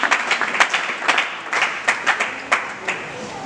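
A church congregation applauds the president at a New Year greetings gathering. Close, uneven clapping from many hands keeps up a lively patter throughout, with voices mixed in under the applause.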